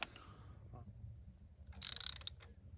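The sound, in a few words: ratchet tightening a spark plug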